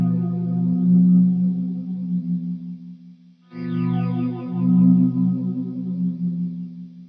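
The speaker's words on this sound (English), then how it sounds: "we need to have on some delay and our trusty Boss PH2 superphaser" A clean electric guitar swells in with delay and a Boss PH2 Super Phaser, two slow chord swells that fade in, shimmer and sustain, with a brief drop to near-silence between them.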